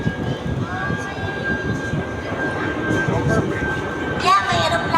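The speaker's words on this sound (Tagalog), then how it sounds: "Yeah, may aeroplano." An airplane passes overhead as a broad, steady rumble that swells slightly near the end, heard beneath overlapping conversation.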